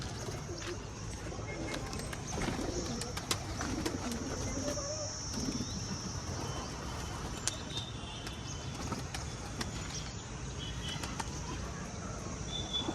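Kept pigeons coo softly in low, repeated throaty calls while being given food and water in the monsoon season, faint and somewhat distant, with occasional wing flutters and small taps mixed in.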